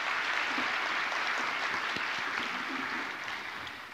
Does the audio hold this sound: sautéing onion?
no